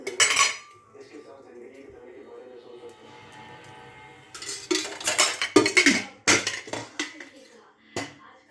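Dishes, pots and pans being washed in a home kitchen, with bursts of clattering metal and clinking utensils that grow louder and busier toward the end, heard alongside someone talking.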